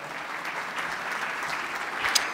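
Steady audience applause at an anniversary event fills a short stretch as a speaker is welcomed to the stage, even and sustained with a brief louder burst near the end.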